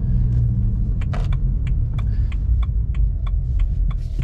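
A car passing on the road outside a running car with an 8HP70 gearbox, heard as a steady low rumble with road noise. Faint clicks and rattles sit on top, with no talk.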